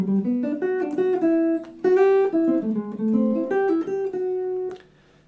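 A bebop melodic figure is played over the first two chords of a harmonized major scale, a flowing run of distinct notes at close range with no talking.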